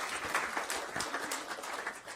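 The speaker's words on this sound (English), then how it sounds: "Now, y'all, you should be clapping." An audience claps at a school district board meeting, a dense spread of hand claps held at a steady moderate level from a fair distance, with no voices over it.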